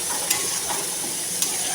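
Thick spice paste for a Bengali fish curry sizzles and hisses steadily in a pan as water goes in, with a couple of sharper bursts standing out; close and fairly loud, no talking.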